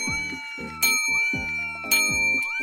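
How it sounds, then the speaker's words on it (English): A bell in the Roblox game Secret Staycation, clicked over and over, gives bright ringing dings about a second apart over a steady, layered tonal game soundtrack. "So you're supposed to get on the bell here, keep clicking it"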